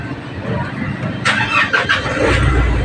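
A Nissan NV350 van's engine cranks and catches partway through, settling into a steady low idle, heard up close over a noisy background with some faint talk.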